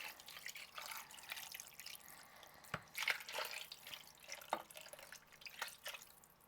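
Water being poured into a bowl of marinade for bone-in country style ribs, heard as quiet intermittent splashes and drips close by, with a few sharper plops.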